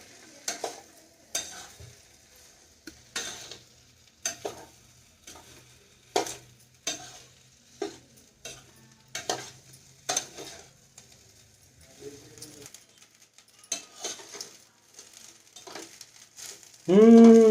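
Tamarind rice (pulihora) is stirred in a pan, a steady run of scraping, clattering spoon strokes against the metal about every half second, close and clear with no talk, ending in a brief louder knock.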